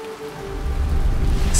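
Rain falls steadily through a forest at night, a dense continuous patter that swells gradually and stays close, with no voices over it.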